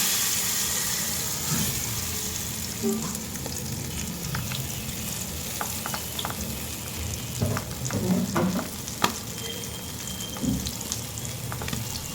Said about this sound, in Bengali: চুলায় তেল দিয়ে দিলাম, এই ডিমগুলো দিয়ে দিলাম।